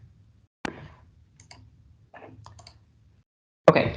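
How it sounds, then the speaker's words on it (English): Several isolated clicks of computer keys tapped in short bursts, with pauses between groups, quiet and close in an otherwise silent room. "I'm too fast on the keyboard"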